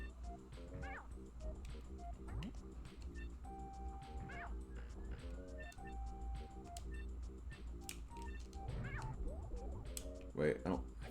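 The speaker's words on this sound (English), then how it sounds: "He also sounds like a cat whenever he gets hit" Incantation, a character in a video game, lets out short cat-like meows when hit. The meows come over continuous background music and game effects while a person talks throughout.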